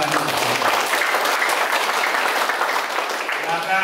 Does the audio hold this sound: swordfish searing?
no